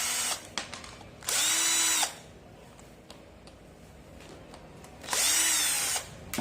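A powered screwdriver backing long bolts out of a DC submersible water pump, two loud whirring bursts with rising pitch separated by quieter handling clicks, close up and with no talking.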